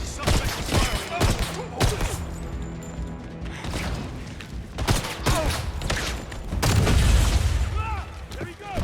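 Gunfire in a 007 video game shootout, with bursts of sharp shots and heavy booms scattered throughout, loud and close, mixed with voices talking.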